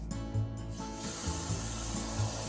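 Rice is rinsed in water, making wet, gritty scraping and rubbing sounds as the grains are stirred by hand, close and fairly quiet, with rhythmic swishing pulses and no talking.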